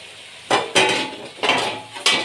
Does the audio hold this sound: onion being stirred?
yes